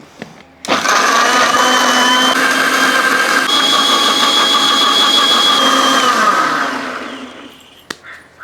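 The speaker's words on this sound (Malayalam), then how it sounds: "ഇതുകൂടെ ഒന്ന് അടിച്ചെടുക്കുക." An electric blender whirs loudly and steadily for about six seconds while blending a milk shake, then winds down and stops, with a small clatter at the end.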